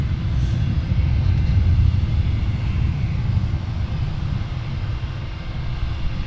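Jet engines of a Boeing 757-200 at Portland International Airport, a loud, steady low roar and rumble holding constant throughout, with no one talking.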